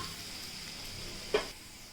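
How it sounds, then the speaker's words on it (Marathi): Ginger and garlic frying in a pan for chicken chili, giving a soft, steady sizzling hiss with one brief clink partway through. "इथे आपण आता आलं लसूण मस्तपैकी असं फ्राय करून घेतलेलं आहे"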